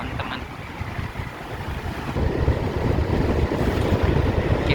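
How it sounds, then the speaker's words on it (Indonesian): Strong wind buffets Bukit Putus hill, a loud continuous roar pressing on the microphone and growing heavier partway through. "Angin cukup lumayan kencang sekali ini, teman-teman."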